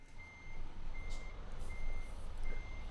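Repeated reversing beeps from a truck in Euro Truck Simulator 2, evenly spaced steady tones over a constant low engine rumble, fairly quiet, with no one talking.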